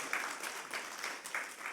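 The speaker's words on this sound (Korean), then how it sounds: "박수하겠습니다" A church congregation applauding during a Sunday worship service, a soft, even wash of clapping at moderate distance with faint brighter hand-claps rising through it.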